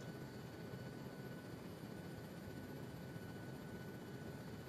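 Steady helicopter engine and rotor drone heard from inside the aircraft in a video game, a continuous broadband roar with no breaks, muffled and fairly low in level.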